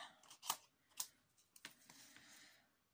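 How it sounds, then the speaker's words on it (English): Sharp snips of scissors cutting paper at close range, a few distinct cuts spaced about half a second apart, followed by softer snipping and rustling. "I'm going to fussy cut that, so I'll just get my scissors."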